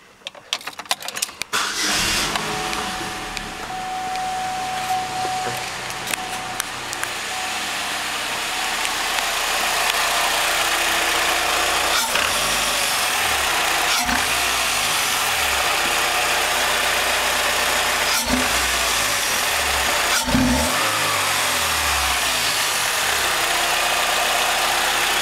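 A car engine fitted with a Chromintake short ram intake starts and then runs loud and alone for the whole stretch, with a steady idle broken by several brief revs.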